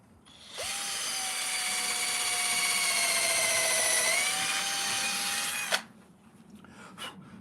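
A power drill fitted with a combined drill and countersink bit bores into wood in one sustained, high-pitched whine lasting about five seconds. It spins up, holds steady and cuts off sharply, close by, with no talk.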